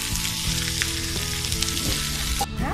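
A hilsa fish head with Malabar spinach browns in a pan, giving a dense, steady sizzle and crackle with occasional stirring scrapes, close and loud.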